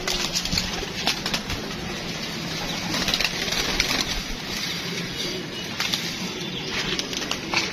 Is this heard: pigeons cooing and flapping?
yes